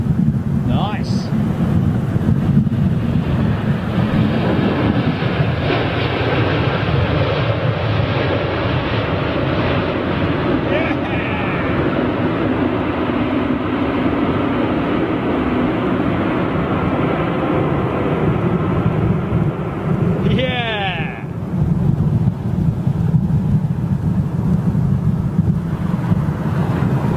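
A landing airliner roars through its thrust reversers at Heathrow in gusty wind, a sustained loud broadband rush mixed with wind buffeting on the microphone, as people talk nearby.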